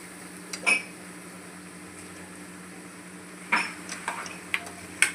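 Eggs being stirred into cooked masala in a pan, heard as a few sparse clinks and scrapes of a utensil against the pan over a faint, steady sizzle.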